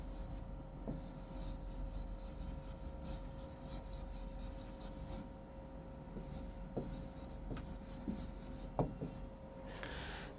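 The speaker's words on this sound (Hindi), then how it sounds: "इंग्लिश में भी मैं लिख देता हूं इसको" A teacher writes a glacier's name on a board in a lesson on Indian rivers, giving soft continuous scratchy strokes with occasional taps, steady and close, with no talking over it.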